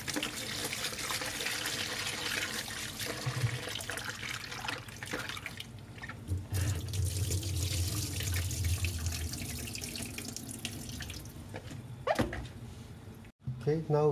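Tap water runs into a kitchen bowl while raw prawns are rinsed for har gow dumplings, a steady close stream with sloshing and splashes from handling, the flow cutting off near the end.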